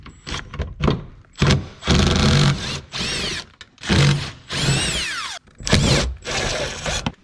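Short bursts from a power tool whine and rattle as 10 mm bolts come off a heat shield on a 2021 Honda Pioneer 1000-5 side-by-side, with quiet gaps between each run.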